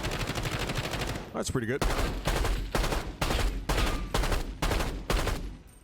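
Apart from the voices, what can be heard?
SWAT 556 rifle gunfire in Call of Duty video game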